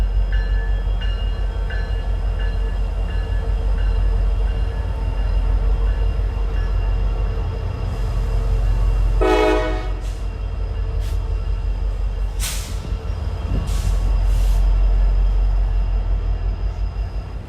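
Locomotive train passing close by, a loud, continuous rumble and clatter of wheels on rails throughout, with a few brief higher squeals and clanks along the way.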